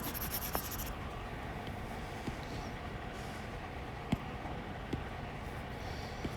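An eraser wipes chalk or marker writing off a classroom board, making soft, faint rubbing with a few light knocks against the board, quiet throughout and without voices.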